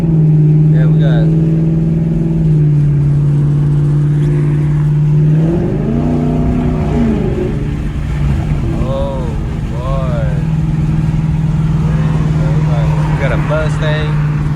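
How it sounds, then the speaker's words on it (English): A Ford Mustang V6 moves through highway traffic with a loud, close engine drone that rises and eases as it revs, while voices talk over it in the second half. "Mustang. I think that's a V6 though."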